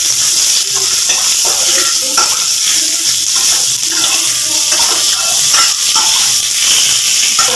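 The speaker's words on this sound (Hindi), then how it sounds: "मेरा आम भुन रहा है" Chopped raw green mango fries in a hot pan for a sweet-sour gurumma. The sizzle is loud, close and continuous, with a bright steamy hiss and bubbling crackles throughout.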